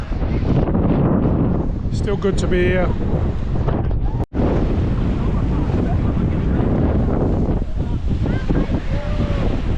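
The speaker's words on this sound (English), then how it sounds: "It's a shame about the snorkeling. I'm a bit gutted actually, but it's really windy." Strong wind at Sharm El Sheikh on the Red Sea buffets the microphone in a constant loud roar throughout, with a person briefly speaking early on and a short dropout midway.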